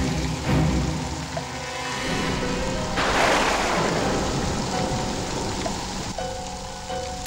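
Steady rain falls throughout, a dense hiss with a surge around the middle, and a low rumble like distant thunder beneath it.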